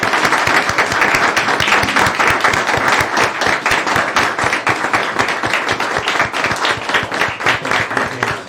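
A loud, dense round of applause from the audience at a city mayor and council meeting during an award presentation, steady clapping filling the room for several seconds.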